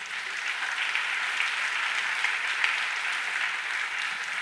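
A church congregation applauds during a sermon, giving a steady, dense wash of clapping that holds at an even level throughout.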